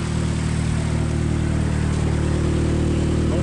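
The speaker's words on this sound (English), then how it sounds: "Don't worry about that noise. There's a hole in the exhaust." A car engine with a hole in the exhaust idles steadily with a rough, raspy rumble, a constant loud drone with no change in pitch.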